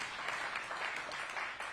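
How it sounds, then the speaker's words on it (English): Faint, steady applause from an audience at an urgent care center ribbon cutting, a soft, even wash of clapping heard from a distance. "Give a round of applause for that."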